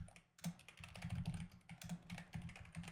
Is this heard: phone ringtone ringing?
no